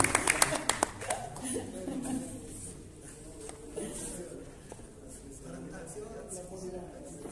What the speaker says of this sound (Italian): Un applauso a Giuseppe Lorefice doppio